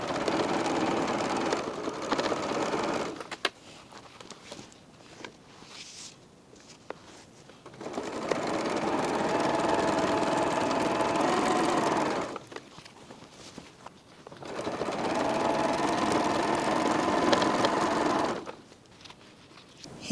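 A sewing machine runs in two long, steady whirring stretches while binding the bottom edge of a quilt-as-you-go serger cover, with short stop-and-start runs and quiet handling sounds between them, close and clear.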